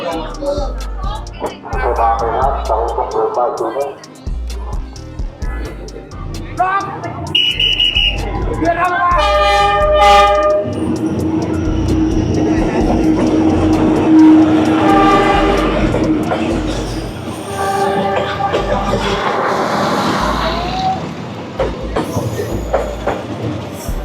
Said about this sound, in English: so the train is arriving